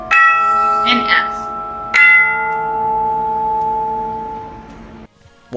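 Tuned percussion bells ring a short sequence of separate notes, each struck clearly and close, the final tone sustaining and slowly decaying before a brief pause.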